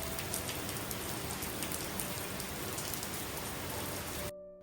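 Rain pours into a farmhouse courtyard as a loud, dense and unbroken patter with no voices, then cuts off abruptly at the end.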